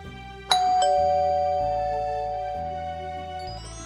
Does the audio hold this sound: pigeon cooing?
no